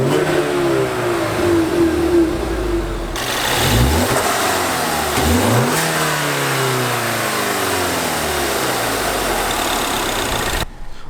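A 2017 Ford Mustang's turbocharged 2.3-liter four-cylinder EcoBoost engine idles, then is blipped through several sharp revs that rise and fall, loud and close, with no talking.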